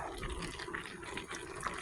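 Bubbling, watery burbling of thick pineapple jam boiling in a pot, steady and close, with no voices.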